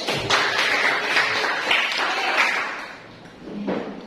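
Classroom applause from a group of students after their discussion and presentation, a steady clatter of many hands clapping for about four seconds, fading briefly before a short late swell.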